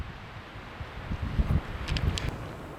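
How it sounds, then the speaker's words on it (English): Wind rushes steadily outdoors at Mammoth Mountain in the Sierra Nevada, a low rumbling buffet with gusts swelling and fading, no voices. "it's windy out"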